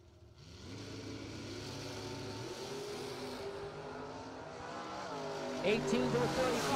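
Drag racing cars, a Chevrolet S10 and a Beretta, roar off the line side by side, engines rising steadily in pitch and loudness with gear changes, under an announcer's continuous commentary.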